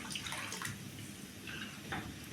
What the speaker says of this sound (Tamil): இன்னும் கொஞ்சம் கூட தண்ணி ஊற்றிக்கலாங்க.